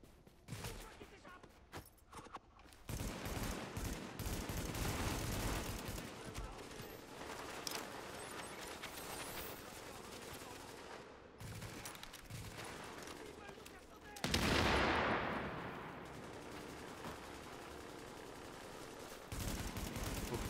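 Gunfire in the video game The Division, including shotgun blasts, comes as bursts and scattered shots over game ambience, fairly quiet overall, with one louder sweeping burst midway.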